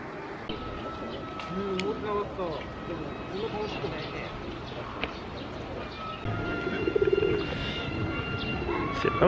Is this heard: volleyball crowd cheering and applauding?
no